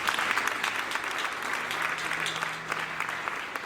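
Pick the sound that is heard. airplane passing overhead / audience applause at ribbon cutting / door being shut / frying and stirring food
audience applause at ribbon cutting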